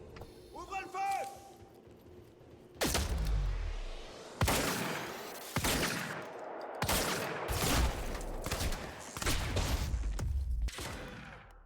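Gunfire in the video game Quantum Break: several loud, heavy bursts of shots come in quick succession with booming low ends, and a voice is heard briefly at the start.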